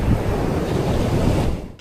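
Wind and surf at a cold, windy, snow-covered beach: a loud steady roar of breaking waves mixed with gusty wind buffeting the microphone, fading out abruptly near the end.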